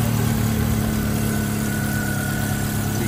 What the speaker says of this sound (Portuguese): O amigo vai dar partida aqui desse motor